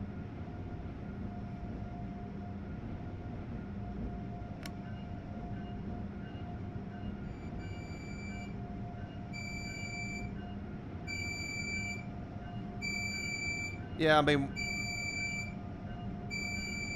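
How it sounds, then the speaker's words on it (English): A train in the Train Sim World 4 game has a sound fault and gives off a steady low rumble with a sustained hum. Intermittent pulsing electronic tones and a sharp sweeping whine come near the end, and a voice speaks briefly. "unfortunately there is a sound issue, it sounds like, coming off that train there."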